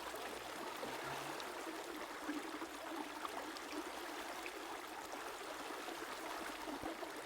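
A river flows continuously in an even, gentle rush of water with soft trickling and gurgling detail, steady and moderately quiet throughout with no voices.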